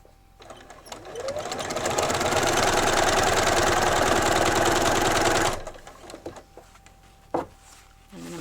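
Domestic sewing machine stitching binding onto a baby quilt, a steady loud whirring run of rapid needle strokes lasting about five seconds, then stopping, followed by faint handling clicks and rustles.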